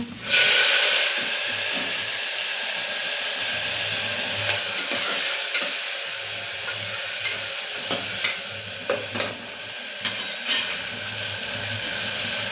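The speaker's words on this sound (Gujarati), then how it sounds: "બધું બરાબર મિક્સ કરી લેશું પછી આપણે તેમાં જે આ ચોળી છે તે એડ કરી લેશું" Green cowpeas (chori) stirred and frying in a pan for a potato curry, with a steady loud sizzle and hiss throughout and occasional light spoon clicks against the pan.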